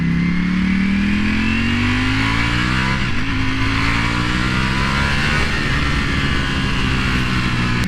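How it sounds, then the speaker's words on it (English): A 2019 Ducati Panigale V4 motorcycle engine revs loud and close, its pitch climbing steadily, then dipping briefly and rising again in a sustained high-revving whine. "I still cannot believe I'm on a Ducati Panigale V4"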